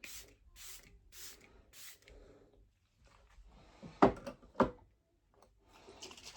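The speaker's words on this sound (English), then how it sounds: "Right, setting spray." e.l.f. setting spray misted onto a face in four quick hissing pumps, close and fairly soft, followed by a couple of sharp clicks and light handling clatter.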